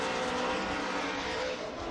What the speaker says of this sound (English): A little bit of lift there, so you can hear it, that Borla exhaust screaming.